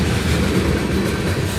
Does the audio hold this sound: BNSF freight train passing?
yes